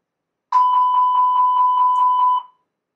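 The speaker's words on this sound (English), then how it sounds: "APU fire test result is good if we have the APU fire warning on the ECAM, continuous repetitive chime" An Airbus A320 cockpit APU fire test warning sounds as a continuous repetitive chime, about ten evenly spaced loud electronic tones over roughly two seconds, with no talk over it.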